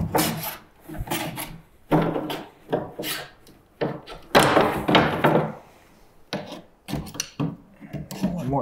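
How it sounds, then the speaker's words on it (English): Window molding pried off with a molding pry bar on a stuck window, heard as repeated scraping, creaking wood and rubbing in irregular bursts with pauses, close and loud, without talk. "I find that I'm much faster with a molding pry bar after I get it started to pry everything off."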